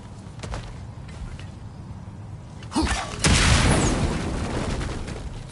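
A bomb explodes in God of War Ragnarok: a sharp crack, then a big booming blast that rumbles and decays over several seconds.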